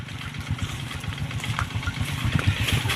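A motorcycle engine idles close up with a quick, even low putter that runs steadily for a few seconds and roughens slightly toward the end, with no talk.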